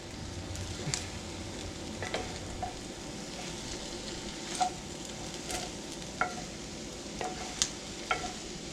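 Scrambled eggs cooking in a 40-year-old cast iron skillet, with a soft, steady sizzle and occasional light scrapes and taps of a utensil stirring them, close and fairly quiet with no talking.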